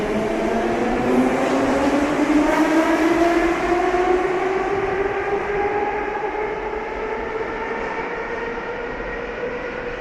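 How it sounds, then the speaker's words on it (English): A train runs in Russia with a steady rolling rumble and a smooth, slowly rising tonal whine, heard without any talk. "Top of the things that Russia is most famous for having is an efficient train transport system."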